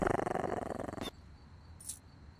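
A dog-like creature in a horror video game growls in a rapid rhythmic rumble for about a second, then cuts off, leaving a quiet ambient hum with a faint brief noise afterward.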